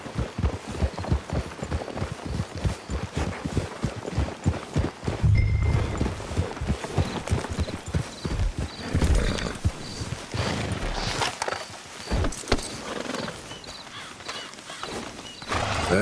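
Video game horse hooves clip-clop in a steady walking rhythm, with a brief whinny partway through and game music and ambience underneath.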